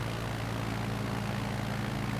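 Steady drone of a propeller airplane engine in a flight simulator during a Nevada bush flight, an even, continuous hum holding at one level throughout with no talking.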